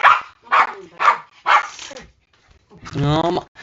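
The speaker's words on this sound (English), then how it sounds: "my dog! He's barking!" A dog gives a short barking burst near the end, loud and close, following several short bursts of speech.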